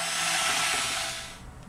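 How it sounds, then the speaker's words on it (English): A blender whirs loudly and steadily while mixing milks and clays for soap, then winds down and fades near the end. "And let's blend the milks and clays."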